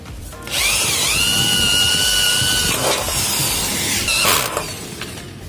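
A power drill whirs steadily for several seconds while driving fasteners into an aluminium door frame, its pitch dipping briefly near the end before it winds down, loud and close with no talking.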